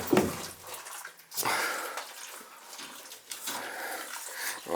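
Water rushing and splashing as a new boiler tank is filled, uneven gushing surges that rise and fall in loud bursts with short quieter gaps.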